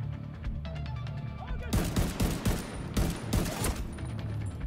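Mark 17 rifle fire in The Division 2, a burst of loud, close gunshots after a quieter opening, coming in rapid clusters.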